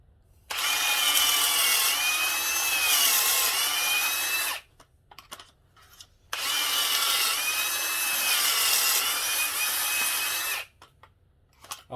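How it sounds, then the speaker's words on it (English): A power drill whines steadily, boring pocket holes in wood in two long bursts of about four seconds each, separated by a brief pause with light clicks and handling noise. "I like to go back in there right after I drill them"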